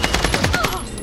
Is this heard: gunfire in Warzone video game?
yes